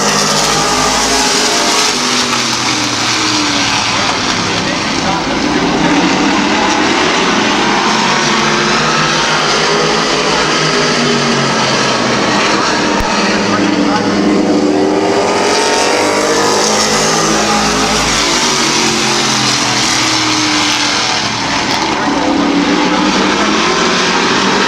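Race cars roar around Midvale Speedway, engines loud and sustained with rising and falling pitch as the pack passes through a turn, a continuous dense motor drone throughout.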